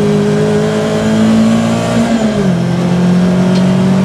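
A tuned, remapped Peugeot 206 RC engine holds a loud, steady high-rev drone, wavers against the rev limiter, then drops to a slightly lower sustained pitch, heard close from inside the car.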